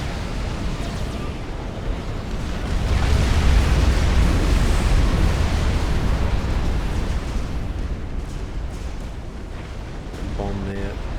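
A nuclear strike detonates in the real-time strategy game Supreme Commander: Forged Alliance, a broad, heavy rumbling blast that swells and roars for several seconds before slowly fading, with game effects layered beneath.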